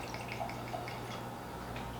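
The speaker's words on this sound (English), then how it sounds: "So pour some of that into the glass" Woodford Reserve bourbon from a freshly uncorked bottle is poured into a glass, a faint, soft trickle and drip that stands alone without talking.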